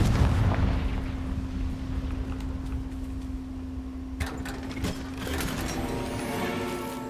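A fiery Confringo spell blast from Hogwarts Legacy booms with a heavy low rumble, then fades into a lingering roar, followed by a sharper burst of crackling impacts partway through, moderately loud with no talking.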